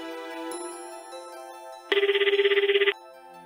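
A telephone's electronic ringtone trills once in a buzzing burst about a second long over a sustained musical tone, with no voices.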